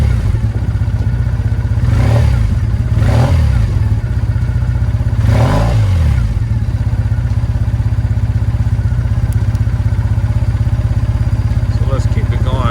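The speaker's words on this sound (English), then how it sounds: "That's the real sound of the Triumph there." A Triumph Bonneville motorcycle engine runs loud and steady close by, with a low rumbling idle broken by three quick throttle blips that rise and fall around the two-to-six-second mark.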